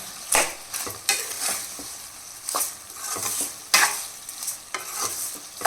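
Tomatoes with rock salt and ripe red chilies stirred in a pan for Andhra-style chutney, soft sizzling broken by repeated scraping strokes of a spoon at a loose, uneven rhythm, close by with no speech.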